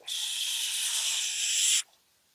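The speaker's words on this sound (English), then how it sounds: "Notice when I am exhaling, the sound is always like shh." A single steady hissing exhale through a tightened throat, close and breathy like a drawn-out shh, lasting under two seconds before cutting off into silence.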